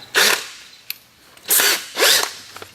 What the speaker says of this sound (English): just drill your hole